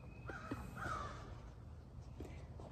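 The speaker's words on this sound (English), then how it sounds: "The crows wanna sing to me." Several hoarse crow caws, fairly faint and some distance away, with a pause before a final softer caw.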